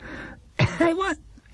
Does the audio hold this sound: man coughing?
yes